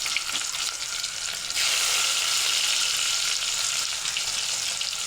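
Small nethili anchovy fish fry in hot oil in a pan with a strong, close sizzle that grows louder and more intense after a moment and stays steady, with no speech.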